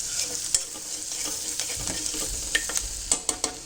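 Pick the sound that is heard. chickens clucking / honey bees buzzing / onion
onion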